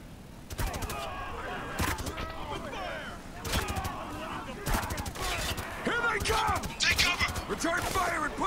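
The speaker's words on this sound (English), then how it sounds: "Taking some heavy fire!" Heavy gunfire in the video game Spec Ops: The Line, with repeated loud bursts of shots and crashes close by under a steady battle din, and a voice shouting over it.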